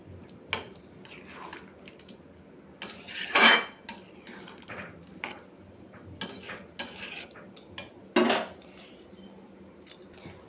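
Potato pieces tipped into a cooking pan and stirred for a vegetarian Kashmiri aloo dum, with a metal spoon scraping and clinking against the pan. Several sharp clatters stand out over soft, irregular stirring noises, close and fairly quiet.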